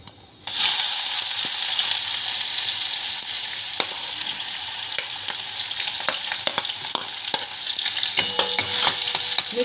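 Chopped onion goes into hot oil with cumin seeds in a pan over a high flame, setting off a sudden loud sizzle that keeps frying steadily, with scattered scraping clicks of stirring.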